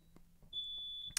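A fire alarm gives a faint, thin, high-pitched beep, a single sustained tone that is cut off by a short click, heard quietly in an indoor room.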